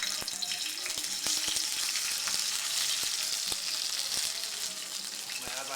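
Asparagus sizzling steadily in a hot pan, a dense continuous crackle with scattered sharp pops and occasional utensil clicks, close and even throughout.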